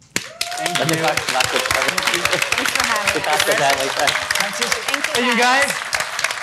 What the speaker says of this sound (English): I want to give another round of applause to the DeMarcos family.